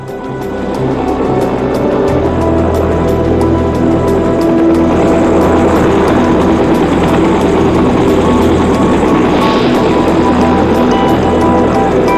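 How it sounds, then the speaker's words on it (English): A constant loud rotor and engine roar goes on without a break, a helicopter hovering fairly close by while casting concrete from the air in the Alps. "The helicopter has a challenging task, casting concrete from the air."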